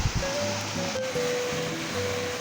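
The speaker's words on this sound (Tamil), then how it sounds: "இந்த மாதிரி இடத்துல நீர்வீழ்ச்சி கொட்டுற இடத்துல" A waterfall pours at the Adalur hill viewpoint near Dindigul, Tamil Nadu, a steady broad roar of falling water heard up close without voices.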